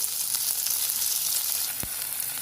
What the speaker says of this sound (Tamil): வெங்காயம் போட்டு இது வதங்கும் போதே தக்காளி போட்டு